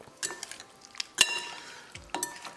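A fork clinks and scrapes against a bowl while lamb meat is added to a yogurt marinade, giving a few sharp metallic taps and soft wet squelches close up.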